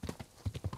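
Horse hooves clip-clop in the medieval video game Kingdom Come: Deliverance, about six quick, close, evenly paced thuds in a short burst, with no talk.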